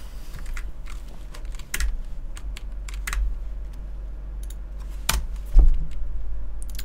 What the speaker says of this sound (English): Oh man, I really am bad with the keyboard.